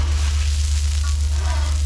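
Bacon and onions sizzle in oil in a skillet, a steady close frying hiss with a low hum underneath, continuous and unbroken.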